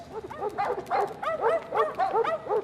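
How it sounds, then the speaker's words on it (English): Cartoon dogs barking on a London Underground platform, a rapid run of yapping barks and yelps in quick bursts, loud and close, filling the whole stretch. "You can't bring your dogs on the underground."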